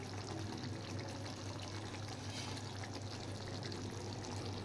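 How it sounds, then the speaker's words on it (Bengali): A small amount of ghee pours into a finished pot of curry as a soft, continuous trickle, faint and close, with no voices over it. "এবার আমি দিয়ে দেব সামান্য ঘি"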